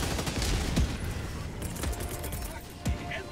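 Scattered video-game gunshots and distant explosions pop through a busy battlefield din, several sharp cracks spaced a second or so apart, with a voice speaking over the action.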